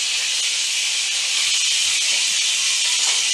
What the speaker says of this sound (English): So we got our water boiling there